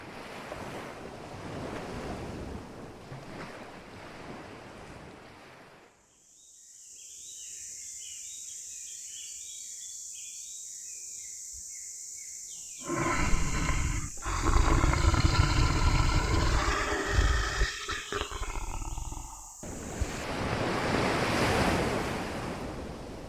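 Strong wind roars and gusts in a stormy scene, a sustained rushing blast with heavy low rumble surging louder midway, alongside a high steady tone and crashing surf-like noise.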